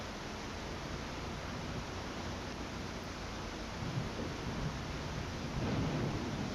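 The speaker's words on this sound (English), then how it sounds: "the intensity of the rain changes depending on where you are on the radar" Steady, heavy rain hiss from a thunderstorm in the video game Tornado: Research and Rescue, a dense continuous wash of noise with low rumbling swells building near the end, no voices.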